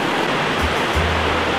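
Water rushing down Potto Beck through a stepped fish pass, with small standing waves: a loud, steady broadband wash with a low churning undertone that thickens partway through.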